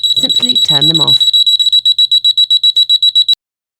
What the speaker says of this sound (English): And when the sensor detects moisture, both alarms will trigger.